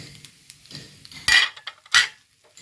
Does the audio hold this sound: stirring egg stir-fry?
yes